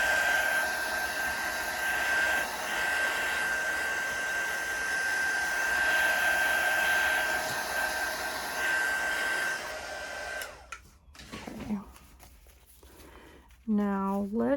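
A hair dryer blows steadily on wet paint while a background is being made, a loud continuous whooshing roar that cuts off near the end, after which a person speaks.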